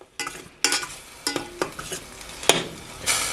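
Aldi butternut squash blend stirred in a pot, a series of crisp scraping and clattering strokes roughly every half second over a light sizzle, close and fairly loud, no one speaking.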